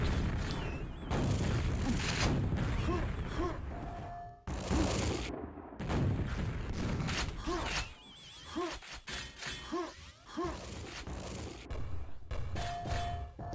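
Grenades explode during a Quake deathmatch, sharp bursts and shattering booms scattered among weapon fire and pickup pings, with several distinct blasts rising out of the busy game mix.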